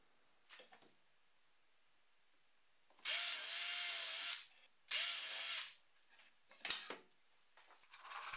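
A brad point drill bores into wood in two loud, roughly one-second bursts with a whining motor pitch, set between softer scrapes and handling noises in a quiet workshop.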